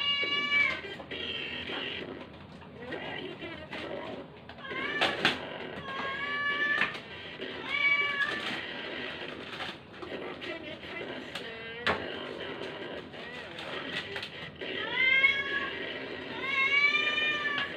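A cat meows repeatedly, a string of rising, plaintive calls at close range, with some brief soft background noise between them.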